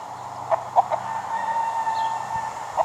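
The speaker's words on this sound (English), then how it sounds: "Hello, rooster." A rooster lets out a few short clucks, then gives one sustained crow at moderate distance, set against a quiet background with a faint low hum.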